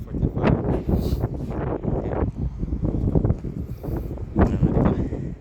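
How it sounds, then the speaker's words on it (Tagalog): Heavy wind buffets the microphone in continuous loud rumbling gusts outdoors at a contractor's work site in Canada in summer, with no one speaking. "Grabe lang yung hangin at saka yung ano,"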